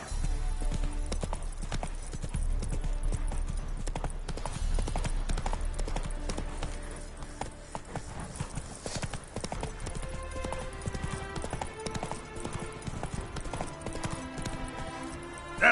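In The Witcher 3, the horse Roach gallops at full pace, a dense rhythmic pounding of hooves, loud and near, easing slightly in the second half beneath game background sound, with no speech.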